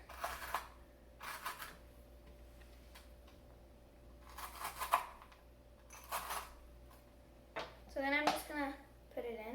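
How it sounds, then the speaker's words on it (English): A knife chops two Kit Kat chocolate bars on a board, giving a few separate crisp knocks spaced apart, and a voice briefly speaks near the end. "So then I'm gonna chop up 2 Kit Kats."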